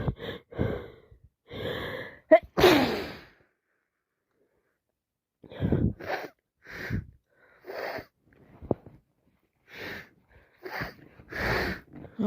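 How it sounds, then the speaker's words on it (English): A person builds up to a series of wet, messy sneezes, each preceded by gasping, snorting intakes of breath, loud and close, with short quiet gaps between bursts. "need to sneeze."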